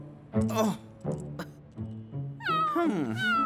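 A cartoon cat gives a series of meows, three short ones and then a longer rising, wavering cry, close and clear, mixed with voiced vocal sounds.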